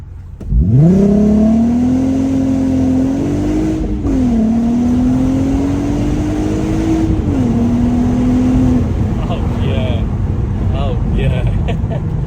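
A VW Golf Mk5 R32 engine pulls hard in first gear, a loud steady drone whose pitch climbs, dips briefly at a shift point, then keeps rising before easing off; close and dominant throughout.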